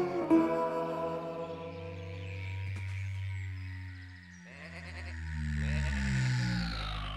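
Cartoon sheep being moved between fields in the Tractor Tom cartoon, a long wavering bleat followed by several more drawn-out bleats close up, with music or other cartoon sounds at points.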